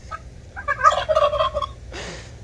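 A flock of turkeys in a pasture gobbles in one loud, rapid burst of rattling calls lasting about a second, then the sound drops off to quiet outdoor background.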